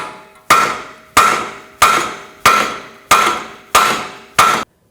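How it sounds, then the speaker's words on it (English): Seven sharp metallic hammer strikes on a ball joint and steering knuckle of a 2004-2009 Audi A4 Quattro at a steady pace, each ringing out briefly before the next, loud and close. "Now we're going to separate the ball joint from the knuckle and just tap it with a hammer."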